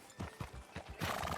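A horse in Red Dead Redemption 2 sounds a quick run of clip-clopping hoof beats and then a breathy whinny at the end, fairly faint and with no talk.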